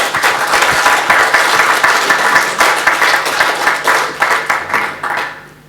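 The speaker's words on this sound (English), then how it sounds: "Big round of applause." A conference audience breaks into a big round of applause, steady dense clapping with a few louder pulses, tapering off near the end.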